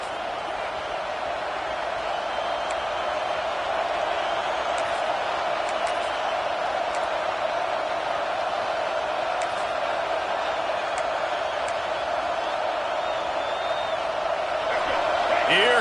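Home crowd at a football game roaring steadily on a third-down defensive stand, a sustained loud stadium wash that swells near the end, with announcers talking over it.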